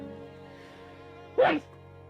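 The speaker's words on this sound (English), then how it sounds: "I'm going to sneeze." One short, sharp sneeze bursts out close to the microphone against a quiet background hum, lasting only a fraction of a second before fading.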